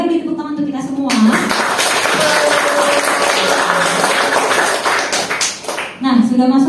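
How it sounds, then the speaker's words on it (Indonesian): A classroom of children claps together after a short voice, a loud dense burst of clapping that runs for several seconds before tapering off as a voice returns. "Boleh beri tepuk tangan untuk kita semua."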